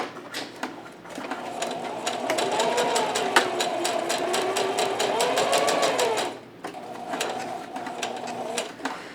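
A sewing machine stitches a quarter-inch seam on a fabric face mask in a fast, steady mechanical run. It pauses briefly, then resumes, with faint bird-like cooing in the background.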